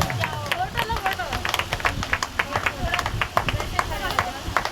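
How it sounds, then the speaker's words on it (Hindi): A women's prayer meeting group claps together in a brisk, uneven burst of hand claps, close and moderately loud, with voices chattering underneath. "ये हुई ना बात, जोरदार तालियां।"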